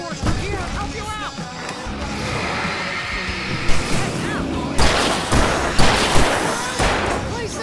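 Fireworks bursting in Alan Wake Remastered during a fight, with loud explosive booms and crackling bursts recurring through the second half, mixed with game music and shouted voices.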